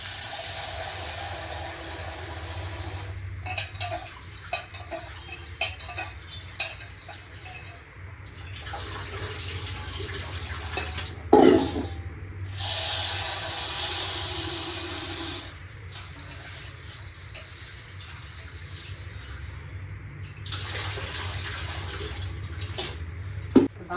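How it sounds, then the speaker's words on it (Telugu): Tap water runs steadily into a vessel of washed grains in a home kitchen, a faint continuous splash with a few clanks and brief pauses. "బాగా ఫుల్గా వాటర్ పట్టేసుకుంటాను"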